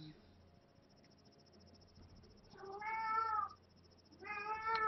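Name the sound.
cat meowing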